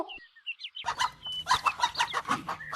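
A cartoon chicken on a farm clucks in a quick series of short, bright calls, close and clear, following a few high chirps at the start.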